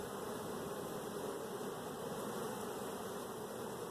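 Honey bees buzz in a dense, steady drone from an open hive in spring, a continuous close hum with no break or voices.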